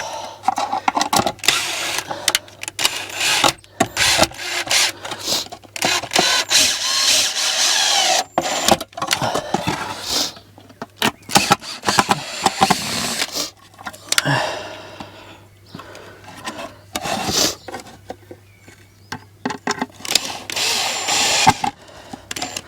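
A power drill drives screws into the wooden boards of a shed in a series of short, close, irregular bursts. Knocks, rubbing and handling noises fill the gaps between the bursts, against a faint low hum.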